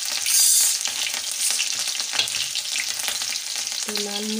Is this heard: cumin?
yes